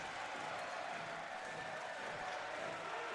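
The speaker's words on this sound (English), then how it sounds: "And listen to this crowd" A college basketball crowd at a Swarthmore men's game against Johns Hopkins roars in a dense, steady wash of cheering and applause, heard from the arena at a distance, with faint commentary mixed in.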